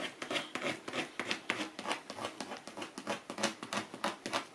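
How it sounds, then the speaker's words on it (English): A credit card scraping paint across canvas gives a steady rhythm of short, dry rasping strokes, close and fairly quiet, with no talking. "So I'm literally scraping it off again and scraping it on."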